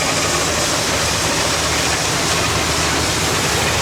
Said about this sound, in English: Running the auger.